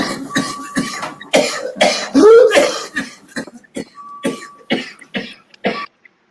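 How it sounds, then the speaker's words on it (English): A person coughs repeatedly in a loose rhythmic pattern, roughly a dozen close, loud bursts spread over about six seconds, with short gaps between them and no talking. "you might have to make your cough into a beat"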